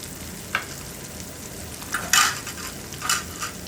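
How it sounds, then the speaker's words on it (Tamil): Tomatoes with turmeric sautéing in a pan for vegetable rice, a soft steady sizzle with a few brief scraping stirs of the spoon, close but fairly quiet, with no talking. "தக்காளி நல்லா வதங்கட்டும்."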